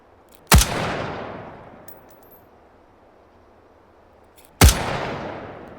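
Two loud, sharp gunshots about four seconds apart, each with a long ringing decay, fired at a qualification shooting range in the VR game H3VR; no talking.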